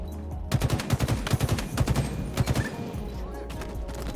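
Rapid bursts of gunfire in the video game Halo Infinite crack in quick rhythmic volleys for a few seconds, fairly close and punchy, with a brief pause in between.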